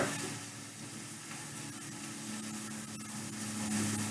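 Beef browning in a stew pot for an inexpensive beef stew, giving a steady close sizzle and hiss that holds evenly throughout with a faint low hum beneath.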